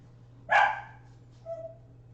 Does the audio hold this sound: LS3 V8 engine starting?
no